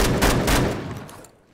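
An AK-47 fires a short rapid burst in Phantom Forces, loud close shots that fade quickly into a trailing echo and silence.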